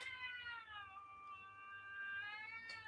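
A cat meows for food in one long, drawn-out, wavering call close by, fairly faint and alone.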